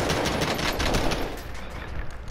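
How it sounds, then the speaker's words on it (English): Enemy gunfire in Warzone comes through a wall as a rapid full-auto burst, loud and muffled, fading slightly toward the end. "he's shooting through the fucking wall"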